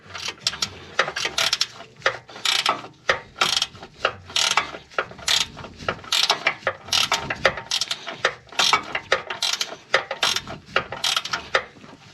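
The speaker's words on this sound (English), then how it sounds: "I'm going to get the 30mm ratchet spanner on it underneath the gaiter" A 30mm ratchet spanner tightens a bolt on a Ford ST220 anti-roll bar poly bush, giving repeated bursts of sharp ratcheting clicks in uneven strokes, close and clear in a quiet workshop.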